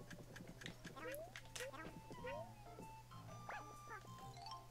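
Poochy, the dog companion in the video game Yoshi's Crafted World, lets out short gliding yips and barks over a steady game music bed, with people talking over the play throughout.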